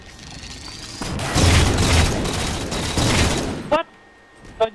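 Gunfire in a Halo 4 multiplayer match on the Haven map: a sustained, loud burst of rapid shots lasts about two and a half seconds, followed by a couple of short sharp bursts after a brief pause.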